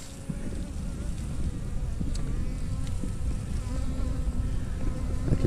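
Honeybees in a hive removed from a house hum steadily close by, a dense continuous buzz from many insects with faint scattered clicks.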